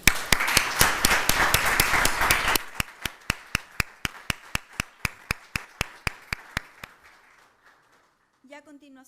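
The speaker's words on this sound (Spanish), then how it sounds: "les voy a pedir recibirlos a los dos con un fuerte aplauso" An audience at a lecture on LGBTIQ+ political-electoral rights applauds to welcome two speakers. A dense burst of clapping gives way to a few single, evenly spaced claps that fade out, and then a voice briefly begins.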